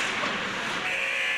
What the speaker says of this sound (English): as the buzzer